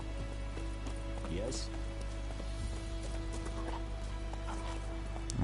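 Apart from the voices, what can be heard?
horse galloping in a video game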